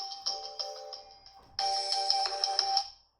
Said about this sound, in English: Got a phone call, sorry.